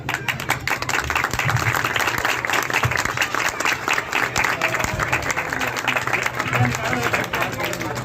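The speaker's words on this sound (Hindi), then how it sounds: "सब लोग तालियां बजाएंगे।" A crowd at a village celebration in Malihabad, Lucknow claps continuously as a cake is cut, dense steady applause with voices talking underneath.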